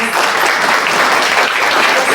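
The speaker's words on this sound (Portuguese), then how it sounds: "com uma salva de palmas" A loud, continuous round of applause from an audience welcoming a guest speaker at a morning talk, dense clapping sustained evenly throughout.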